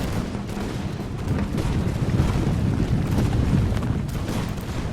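Fusiliers firing a massed musket volley in Empire Total War, a dense, rolling crackle of many shots blending into a sustained rumbling barrage, moderately loud with no speech.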